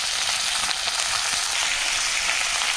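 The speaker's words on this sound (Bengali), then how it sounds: "মাছটা দিয়ে দিলাম, ভেজে রাখছিলাম" Fried fish dropped into a pan of oil with mustard paste sets off a loud, steady, close hiss of sizzling that continues without a break.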